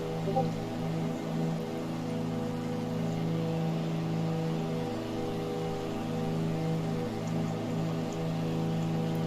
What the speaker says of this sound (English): I see the rain on my canopy. The water trails.